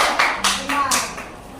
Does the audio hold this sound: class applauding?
yes